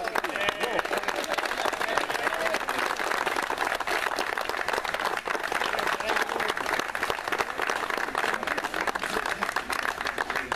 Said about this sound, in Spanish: los invito a que le demos un fuerte aplauso a don José Hermida por su trayectoria.